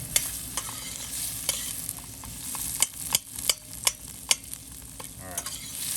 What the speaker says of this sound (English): So you're gonna wanna move these onions around quite a bit